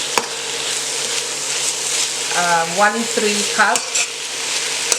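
Onions sizzle steadily in a hot pan while a red curry with chicken is being made. A continuous crackling fry runs throughout, with a voice speaking briefly over it partway through.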